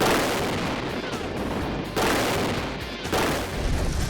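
A large explosion from a physics-of-falling test sounds as a sustained thunderous roar with two sharp booming surges, loud and rolling, with no voices over it.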